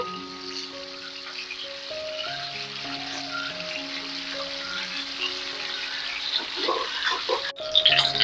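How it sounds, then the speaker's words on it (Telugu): Fish pieces fry in a pan, a steady crackling sizzle with bursts of popping that grow a little louder toward the end, with faint tonal kitchen background hum underneath. "ఏగిపోయాయి చూడండి చేప ముక్కలు ఇటు పక్క కూడా ఇలాగ ఏగాలి"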